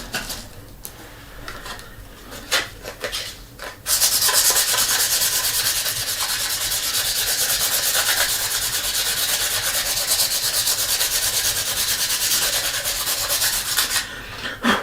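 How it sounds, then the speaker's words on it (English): A wooden mahl stick is sanded with red sandpaper, first in a few short rubbing strokes and then in a long, continuous, rhythmic rasp that is loud and close. "And there's the red sandpaper."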